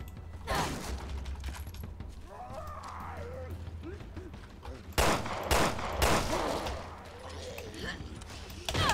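Rapid bursts of gunfire in Resident Evil: Revelations 2 crack out in clusters over a steady background hum, with sharp louder volleys partway through.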